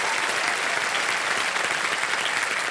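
A studio audience at a television quiz show applauds a contestant, a dense, steady wash of loud clapping from many hands that fills the whole moment without pause.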